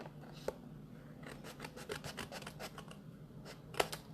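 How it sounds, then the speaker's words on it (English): Scissors trimming a sheet of cardstock for a 6x6 one-sheet-wonder card project, a run of quick crisp snips and rasping cuts at close range, with a sharper snip near the start and another toward the end. "I can see that this needs trimming slightly, so I'm just going to trim it off"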